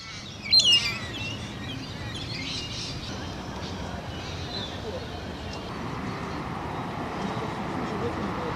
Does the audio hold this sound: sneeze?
no